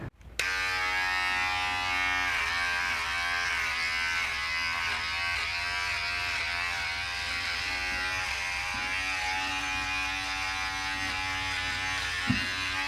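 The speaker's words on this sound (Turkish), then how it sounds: "Neyse bir tıraş oluruz biz de hatta dön." An electric shaver runs through a beard: a loud, close, steady buzzing hum starts abruptly and holds almost unchanged for the whole stretch, with slight shifts in tone as it moves and no speech.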